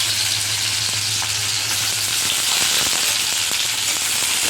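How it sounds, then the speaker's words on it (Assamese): Potatoes frying in oil in a pan give off a steady, dense sizzle that holds loud and even throughout, with a few faint stirring clicks underneath. "প্ৰথমতে আলুখিনি ভাজি ল'ব লাগিব"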